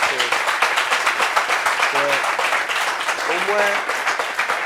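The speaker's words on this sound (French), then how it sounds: "Applaudissements pour ça." A studio audience claps on a talk show, a continuous rhythmic patter of hands with brief voices breaking through midway.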